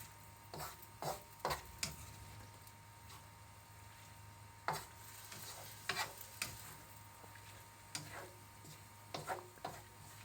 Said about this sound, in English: Now we're just going to stir this like a stir fry for about 4 minutes